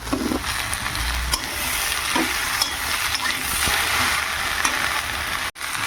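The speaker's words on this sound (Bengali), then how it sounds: "এর মধ্যে ওই চিংড়ি মাছগুলো দেবো, এগুলো একটু ভালো করে ভেজে নেবো" Shrimp frying in a pan, a steady broadband sizzle holding at even loudness throughout, with occasional small clicks and stirring noises and no talk.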